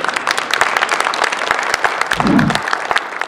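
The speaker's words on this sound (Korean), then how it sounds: "축하의 박수 한번 보내주십시오." An audience at a Korean AI chip event applauding in celebration, with dense, sustained clapping and a brief low rumble partway through.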